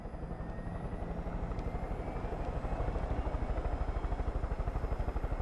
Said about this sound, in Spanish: Me piro en helicóptero, amigos.